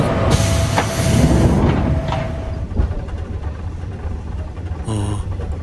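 A train rumbles steadily with low mechanical drone and a faint sustained tone, ending with a brief hiss of air near the end.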